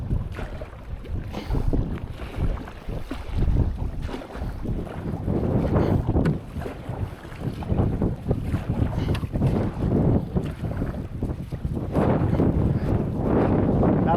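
Gusty headwind buffets the microphone while canoeing across open water in Algonquin Park, a continuous loud, low rumbling roar with occasional splashes and water movement.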